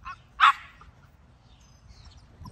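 An XL pitbull gives a single sharp, fairly close bark early on, followed by quiet background noise and a faint later yip.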